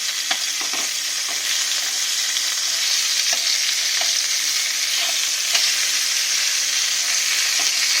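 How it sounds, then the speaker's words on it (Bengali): Hilsa and rohu fish heads frying in oil in a pan, a steady loud sizzle with occasional sharp pops and crackles throughout, no voices. "মাছের মাথাগুলো ভাজা হচ্ছে"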